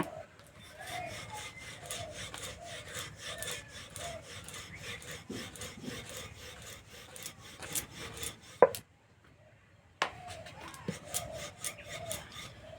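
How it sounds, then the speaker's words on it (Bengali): Cabbage paratha dough being rolled out thin with a rolling pin, a close, steady rhythm of soft rubbing and rasping strokes that repeat back and forth, with a brief pause and a sharper knock partway through. "পাতলা করে বড় করে বেলে নেব।"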